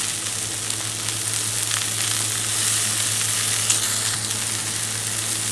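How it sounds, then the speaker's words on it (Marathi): Chigal leafy greens hit a pan of browned onion with a loud, dense, steady sizzle of frying that holds evenly and close throughout, with only a faint stir partway through. "आता आपण याच्यात टाकूया धुवून घेतलेली भाजी"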